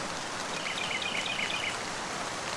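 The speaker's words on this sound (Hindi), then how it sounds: "बंटी चिड़ा तेज बारिश में भीगता हुआ उसके पास आता है" Heavy cartoon rain falls in a continuous dense patter and hiss, steady and moderately loud throughout, with a faint bird-like chirp in the middle and no talking.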